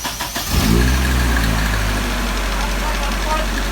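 Car engine cranking over and catching at about half a second, then settling into a steady close idle, running alone without talk after the start.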